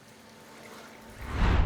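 Water pours into the pipe of a 10 HP oil expeller machine, a low, faint splashing flow that swells louder toward the end.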